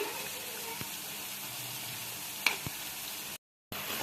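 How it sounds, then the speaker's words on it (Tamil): Palak pakoda deep-frying in hot oil over a medium flame gives a steady close sizzle with a couple of sharp pops and crackles, then cuts out briefly near the end. "அடுப்பை மீடியம் ஃப்ளேமில் வச்சு நல்லா ஃப்ரை பண்ணிக்கலாம்"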